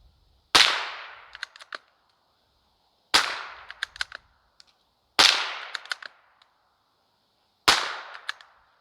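Four sharp .22 LR rifle shots from a Savage bolt-action gun crack out one at a time, spaced a couple of seconds apart. Each is followed by a brief ringing tail and faint clicks.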